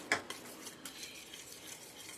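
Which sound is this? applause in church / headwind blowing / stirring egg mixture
stirring egg mixture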